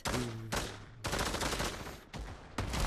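Gunfire in the VR shooter Pavlov, several loud bursts of rapid shots separated by short pauses, close and dense.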